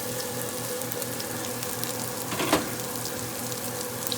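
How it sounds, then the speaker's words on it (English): Chicken fries in bacon grease with a steady, close sizzle that holds evenly throughout, with one brief louder crackle partway through. "I've got the chicken going, and I just went ahead and put it in the bacon grease"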